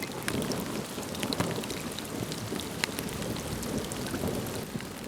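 Rain pouring down on a wet, cold, windy day around a tortoise enclosure, a constant hiss of drops with scattered sharper patters close by, heard alone without talk.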